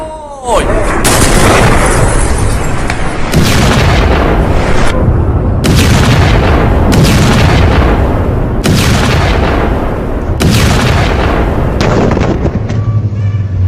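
Explosions from a US strike on an Iranian command centre roll as a series of loud, dense booms and heavy rumbling, with several sharp blasts spaced across the whole stretch and faint voices underneath.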